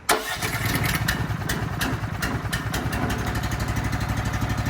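A MoFlo softwash system's motor cranks and starts, then settles into a loud, steady, close running drone with a rapid mechanical pulse, the pump not yet engaged.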